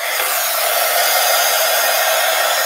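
A hair dryer runs at a steady, loud, unbroken whoosh while drying a piece of artwork, with no talking over it.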